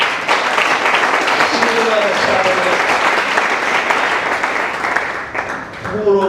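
Sustained applause from a crowd at a worship gathering, dense continuous clapping that holds steady for several seconds and then thins out toward the end.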